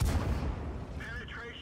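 A tank cannon in World of Tanks fires on an enemy vehicle with a single heavy boom that fades into a rumbling tail, followed by faint whistling game effects.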